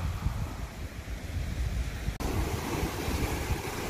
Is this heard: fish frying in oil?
no